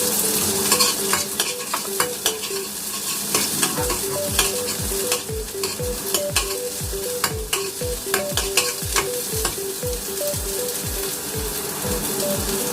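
Chopped onions sizzle steadily in a hot frying pan while cooking lechon paksiw, with a spatula scraping the pan in a quick, regular stirring rhythm throughout, close and continuous.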